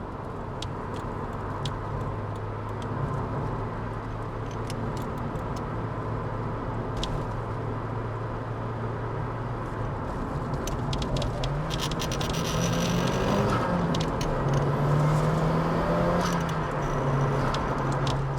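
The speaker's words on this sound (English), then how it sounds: "that spooling, definitely you can hear that sound. It's really, really pleasant just hearing that boost kick in" A Nissan Silvia S15 Spec R with an SR20 turbo engine and six-speed manual accelerating, a steady engine drone from inside the car rising toward the end as the turbo whistle climbs in pitch.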